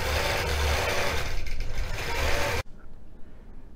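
A longarm quilting machine stitches an orange peel pattern with a steady, busy mechanical whir that runs for over two seconds and cuts off sharply, leaving quiet room noise.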